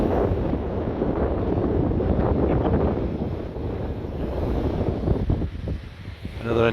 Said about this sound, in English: how strong the wind is